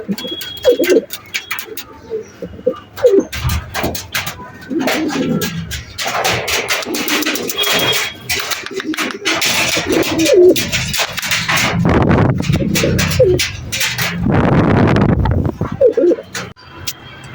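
Pigeons cooing, repeated throaty coos and calls up close among rustling and fluttering, with a dog barking at times and occasional faint voices in the background.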